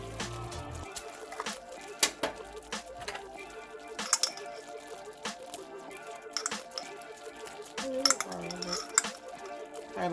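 Garlic being stirred into alfredo sauce in a pan brings repeated clinks and scrapes of a utensil against the pan, irregular and close, with quiet background noise between the knocks.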